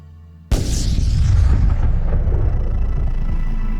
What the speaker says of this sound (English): The most massive stars suffer violent death during supernova explosions.